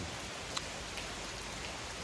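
Steady rain falling on a day-long downpour near Potomac, a soft, even hiss with occasional faint drop ticks and no voices.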